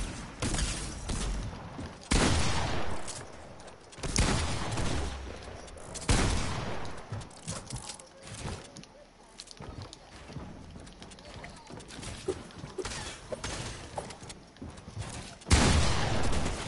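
Loud shotgun blasts in a video game, several sharp broadband bursts spaced a couple of seconds apart, with game noise and people talking in between.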